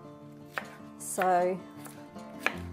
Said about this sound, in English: you see how I'm chopping them? I'm keeping them big pieces, like long pieces, but very, very thin.